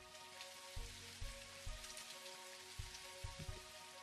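Simulated rain from a 3D city weather tool of Galway, a steady soft patter of drops across the whole stretch, with a few low thuds standing out underneath.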